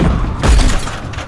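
A rolling tire ultimate detonating in the Overwatch video game: one short, loud burst with a crunching, shattering quality and a low boom, fading quickly.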